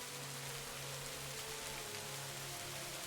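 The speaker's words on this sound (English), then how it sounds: "The rain is so peaceful, and the sounds of the forest are so relaxing." Rain falls steadily through a forest at night, a dense, even hiss of drops with no pauses, soft and continuous with a faint low hum beneath.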